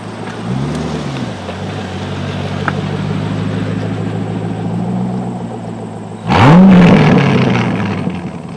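A Corvette engine drones steadily at low pitch, then a sudden loud exhaust rev roars up and settles into a heavy rumble.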